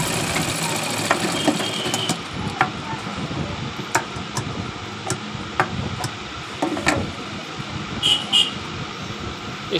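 Sewing machine stitching the shoulder seam of a kurti (simple kameez), a steady, fairly loud mechanical run with small clicks and bumps, and no voice over it.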